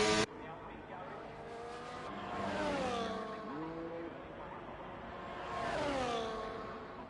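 Race car in a sim racing video game on a hot lap at Zandvoort: engine note rising and falling through gear changes, with a brief sharp burst at the start, heard under commentary.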